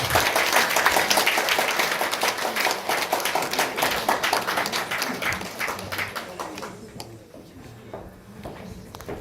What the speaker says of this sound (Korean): 저희 육검주 맹예 교수님한테 박수 부탁드리겠습니다.